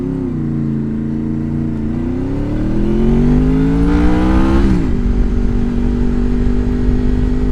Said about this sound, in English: I do love the VTEC.